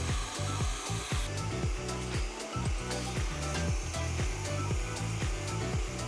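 Stainless steel sheet is cut by a laser with an air assist blowing, giving a constant hiss of air under a rapid, rhythmic mechanical ticking from the moving cutter head, heard close and steady.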